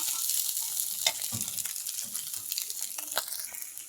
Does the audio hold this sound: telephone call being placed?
no